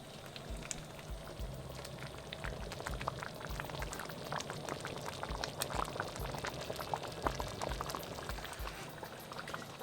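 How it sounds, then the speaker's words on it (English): Dal makhani simmering in a pot, a steady close bubbling and popping of thick lentils that churns on continuously at low volume, no voices over it. "we'll let this simmer down for about an hour"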